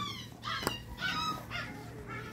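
Dog whimpering and yipping near a calamansi harvest, four short whiny cries in a steady rhythm, close and fairly faint, with no talk.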